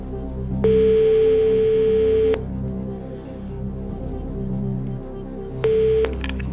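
Touch-tone dialing on a telephone placing a call to a quiz-show contestant's friend during a televised game show: a long sustained tone run, a pause with background murmur, then a shorter tone burst, all fairly loud.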